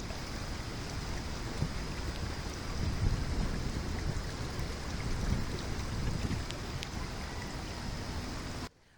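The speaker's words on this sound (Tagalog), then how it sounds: "umaapaw pa rin ang tubig na galing sa sapa" Steady, strong rush of a flooded creek overflowing after continuous rain, a broad continuous roar with no pauses, filling the space until it cuts off at the end.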